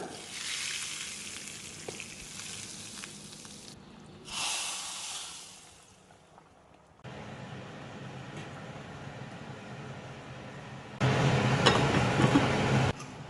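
Mustard seeds, urad dal and curry leaves temper in hot oil, giving bursts of hissing sizzle that flare up, fade and return louder near the end.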